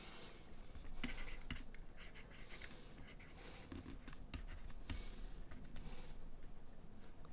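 Pen scratching steadily across paper while writing out a math equation for a differential equation, in close, continuous strokes with occasional sharper taps, with no talking.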